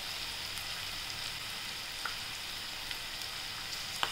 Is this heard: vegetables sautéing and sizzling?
yes